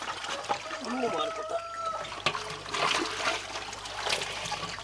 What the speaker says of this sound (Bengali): জল ফেলতে হবে